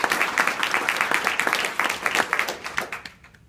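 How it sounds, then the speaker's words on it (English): Audience at the BCITAA annual general meeting applauds the staff and alumni: a few seconds of crisp, moderately dense clapping from a modest crowd that tapers off quickly into quiet. "Let's have a round of applause for the BCITAA staff and alumni."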